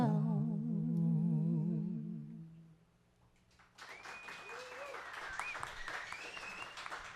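A sung musical performance fades out, followed after a brief hush by audience applause with whoops and cheers, fairly close and sustained, at a live comedy and music show.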